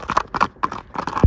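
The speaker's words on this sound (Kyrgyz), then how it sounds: "эми сиздерге көрсөтүүчү экинчи атыбыз дагы даяр болуп чыгып келе жатат" Hooves of a horse clip-clop at a horse sale in Jalal-Abad as it is led out, several distinct steps in an uneven walking rhythm, close and fairly loud, with no talk over them.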